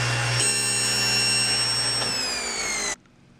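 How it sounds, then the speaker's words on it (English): A table saw with a 10-inch blade cuts a slot up through a wooden throat plate insert, a steady loud motor whine with a shifting tone as the blade rises, then abruptly stops. "Then I'll start the blade and raise it up"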